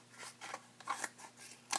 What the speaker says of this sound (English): you can also go ahead and cut the other parts here right along the lines